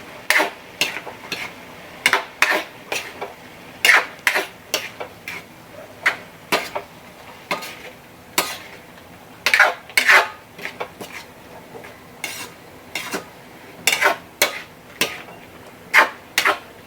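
Utensil scraping and clanking against a pan while lumpiang toge filling of bean sprouts and kinchay is stirred, a steady run of sharp metallic strokes in uneven rhythm, close and fairly loud with no voices.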